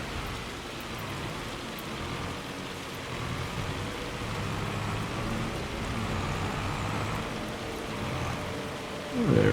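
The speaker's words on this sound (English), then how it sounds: "I want to see if this rain is going to stop, hail or whatever." Steady rain pours down in Farming Simulator 25, a dense even hiss of drops on surfaces that holds at a constant level throughout, with a faint low rumble beneath and a brief louder knock at the very end.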